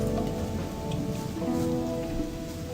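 Heavy rain pours down in the video game Gothic, a constant loud hiss of a downpour drumming on surfaces with no breaks, close and enveloping.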